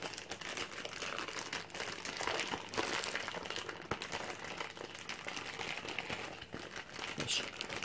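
Tight plastic packets from an Estes Flash rocket kit are pulled and wrestled open, producing continuous close crinkling and crumpling with sharper rustles throughout.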